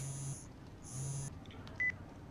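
Cell phone buzzing in a visual novel game, ChäoS;HEAd: two steady electronic vibration hums in a row, then a short high beep, fairly quiet and heard alone.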